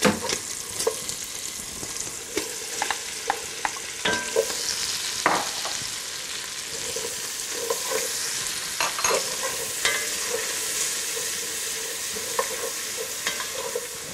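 Jalapenos, onion, garlic and bay leaves fry in a pot with a steady sizzle, interrupted by scattered clinks and scrapes of a spoon being stirred, close and fairly loud with no talking.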